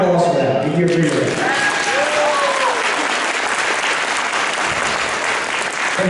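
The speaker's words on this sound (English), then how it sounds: "A round of applause for that." Crowd applause at a congressional campaign launch party in Virginia, loud continuous clapping filling the room, with voices briefly rising over the start before the clapping carries on steadily alone.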